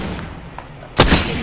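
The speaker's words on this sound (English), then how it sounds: "Getting shot at." A loud, close gunshot bursts out near the end in the video game Apex Legends, a sharp crack with a short ringing tail after a quiet stretch of background hum.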